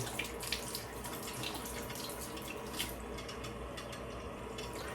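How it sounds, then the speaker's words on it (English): Tap water runs steadily into a sink while foaming facial cleanser is rinsed off the face, a continuous close splashing hiss with no talking. "Now I'm gonna just rinse that off."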